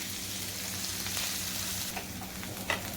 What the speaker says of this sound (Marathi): मध्यम आकाराचा बारीक केलेला कांदा कांदा आपल्याला गुलाबी रंग येईपर्यंत परतून घ्यायचा आहे